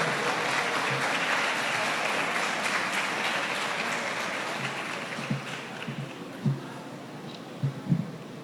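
Loud, sustained applause from an audience welcoming a speaker to the podium at an academic lecture, dense clapping that gradually thins toward the end, with a few stray thumps.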